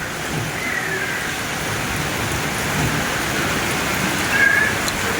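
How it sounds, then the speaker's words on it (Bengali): Steady rain falls continuously at a home, a dense even hiss that swells slightly and eases, with occasional faint higher chirps in the background; no talking. "এই দেখো বৃষ্টি পড়ছে"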